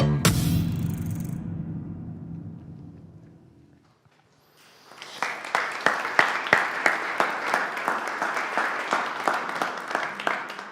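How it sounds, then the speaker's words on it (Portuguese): After a faint voice fades to near silence, computer-generated applause starts up and continues evenly, with crisp repeated claps forming a steady synthetic ovation. "eu tive muito pouco a ver com essas palmas, porque aquilo foi tudo feito por computador"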